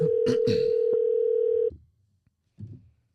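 Steady telephone dial tone holding loud and unbroken for about a second and a half as a caller is connected on a podcast line, then cutting off abruptly, followed by a brief low rustle.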